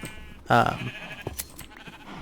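A single short sheep bleat from the Minecraft video game sounds up close, followed by faint clicks and soft game noises over a quiet background.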